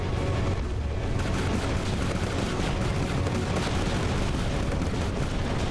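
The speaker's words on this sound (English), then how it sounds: "Why does it sound like they're shooting me with guns?" Continuous dense gunfire and booming blasts from a combat video game, loud and unbroken throughout with a constant rumbling bed and no talk over it.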